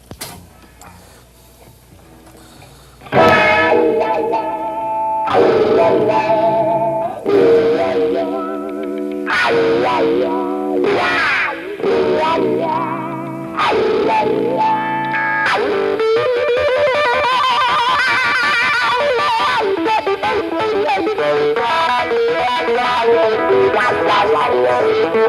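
Electric guitar played through a wah pedal to mimic a pedal steel, sliding bending notes in short phrases after a quiet start, swelling into a long sustained chordal passage near the end.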